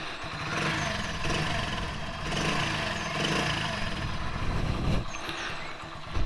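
A 2008 Hero Honda Splendor Plus with a Euro 1 silencer revs up a few times close by, its engine rising and falling in short bursts before dropping back to idle.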